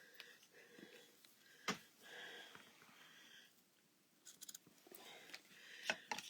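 Scissors snip off the edges of a paper craft card in a few short, quiet cuts, with soft rustling and handling of the paper between them.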